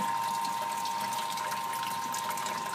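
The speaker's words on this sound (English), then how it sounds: "Pump's recirculating right now. Whirlpooling the wort around." A small pump recirculates home-brew wort, whirlpooling it with a steady rushing, sloshing wash of liquid and a faint constant whine, soft and continuous without pause.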